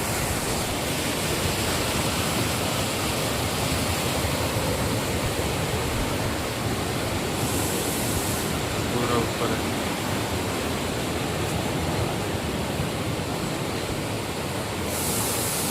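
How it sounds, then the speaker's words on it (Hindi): Fast water rushing down from a hillside waterfall at Sahastradhara in Uttarakhand: a loud, unbroken broadband roar close by, with someone speaking briefly over it. "देखो पानी का कितना तेज जा रहा है पानी।"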